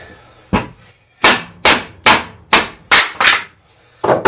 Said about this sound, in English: that's the hammer and pry bar method